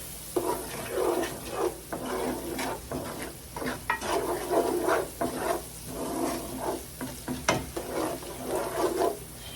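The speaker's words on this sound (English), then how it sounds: "And give that a good stir." Red pepper flakes stirred into a simmering Cajun pasta sauce, with repeated rhythmic scraping and sloshing strokes over a steady close sizzle, no voices.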